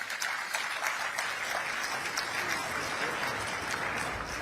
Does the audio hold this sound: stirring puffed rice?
no